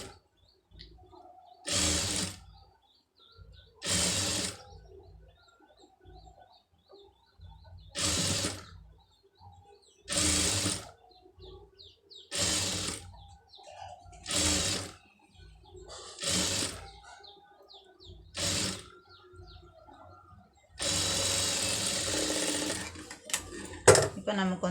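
A sewing machine stitches cloth at a tailoring class in short, loud bursts of a few seconds each, roughly eight runs separated by pauses with light handling sounds, and a final longer run near the end.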